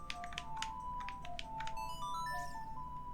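A melody rings out on the ocarina in Zelda Ocarina of Time, a quick run of clear, pure whistling notes over soft game ambience, with a few tapping clicks at the start and a rising chime near the end.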